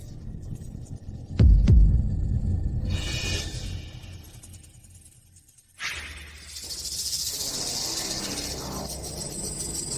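A drama sound effect of many snakes hissing opens with a low rumbling thud, then a broad hiss swells, cuts out abruptly and returns as a sustained, layered hiss.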